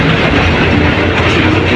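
Old train at Bhusawal junction railway station, a steady close rumble of rolling railcars with faint clickety-clack running unbroken throughout.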